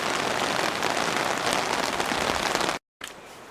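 Heavy rain pours down on a walk along the Camino among chestnut trees near Villafranca, a dense, loud, even hiss that cuts out abruptly for a moment before resuming.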